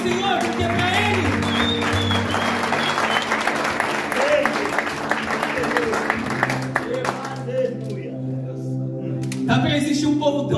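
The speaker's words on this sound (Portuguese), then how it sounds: "Aplaudam ao Senhor, porque é para Ele." A church congregation claps and cheers, a dense sustained wash of applause over steady instrumental music, fading to a thinner, quieter tail near the end.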